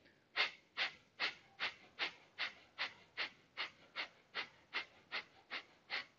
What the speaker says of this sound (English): Inhale, exhale, keep exhaling.